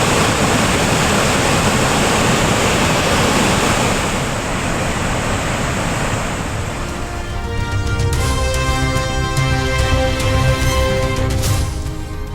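Kaveri river in flood below the Mettur dam's 16-sluice gates, with about 1.5 lakh cubic feet of water released per second, gives a loud, continuous roar of rushing water; halfway through, music rises over the steady torrent.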